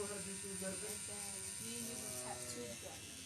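An Axis Valhalla tattoo machine runs at a 3.4 stroke setting with a steady electric buzz that holds for the whole stretch, close by, while people talk over it.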